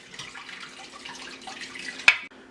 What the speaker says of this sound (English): we're gonna pour it down into my colander